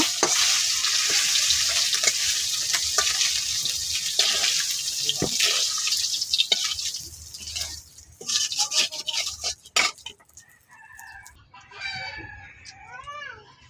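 Onions fry to temper a curry with a loud, steady hissing sizzle that fades partway through. A rooster crows and chickens cluck nearby toward the end.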